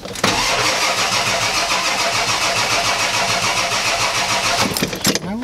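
A 1993 Ford F-250 with a 7.3L IDI diesel engine, running rough, cranks and catches; loud, steady engine noise holds for several seconds before a brief change near the end.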